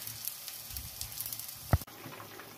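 Soybean curry masala with turmeric, sugar, ginger paste and chili paste being sautéed in a pan: a faint, steady sizzle with a single soft knock near the end, and no voices.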